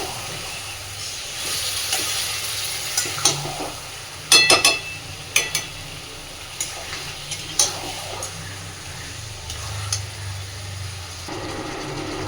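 Chicken kosha cooking slowly in a pan makes a low sizzle under repeated spatula scrapes, with a quick burst of sharp metallic clicks partway through and softer scrapes later.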